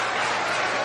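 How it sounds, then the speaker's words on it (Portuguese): Applause from a church congregation bursting out during a service, a brief, dense wash of clapping heard without any voices. "Pode explodir numa salva de palmas para Jesus"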